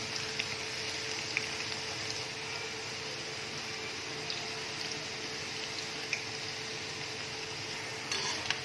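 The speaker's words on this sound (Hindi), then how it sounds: "चिकन हमारा माशाल्लाह फ्राई हो रहा है।" Chicken pieces fry in hot oil in a pan over low heat for a chicken Manchurian dish, giving a faint, steady sizzle with occasional soft clicks of stirring and no voices.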